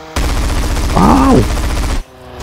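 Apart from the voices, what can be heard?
gunfire from the video game GTA San Andreas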